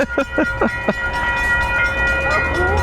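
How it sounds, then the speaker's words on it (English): A train passes at a crossing, opening with several short sharp horn-like blasts, then a sustained loud tonal horn blast with a steady rumbling roar beneath. "So right now we're waiting for a train."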